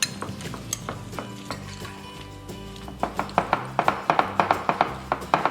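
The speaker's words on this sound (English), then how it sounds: "4 cups of bread, mix it in together." Bread cubes are mixed in a bowl with cinnamon and nutmeg, making soft scraping, then a run of regular clinking utensil taps on the bowl that grows louder and steadier toward the end. Faint background hum underneath.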